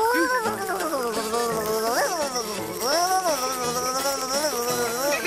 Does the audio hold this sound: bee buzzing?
yes